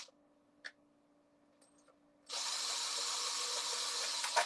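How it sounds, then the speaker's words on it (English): A power drill bores holes through a shell for a coat-hanger trigger, starting after a few faint clicks and then whirring loudly and continuously at close range, with no talk. "Everybody's watching me drill some holes in the shell to put a freaking coat hanger through for the trigger."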